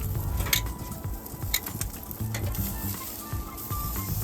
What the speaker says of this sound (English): All right, time to flip the steak.